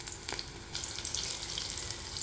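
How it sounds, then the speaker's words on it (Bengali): Stuffed bitter melon fries in a pan, a steady close sizzle with crackling pops and no talk. "এটাকে আমি সুন্দর করে চারপাশ দিয়ে ভাজা করে তারপরে তুলে রাখছি।"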